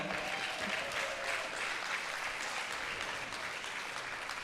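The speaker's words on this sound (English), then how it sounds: "Give these guys a round of applause." Steady audience applause at a pickleball event, dense and sustained clapping from a crowd, fairly close and even in level throughout with no clear voices above it.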